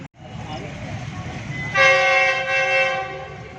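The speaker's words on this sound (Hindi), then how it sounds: "ट्रेन की आमद है जी" A train approaches a closed railway crossing in Gujranwala, a low rumble building before a loud, sustained horn blast sounds close by, followed by continued rolling noise, with faint voices in the background.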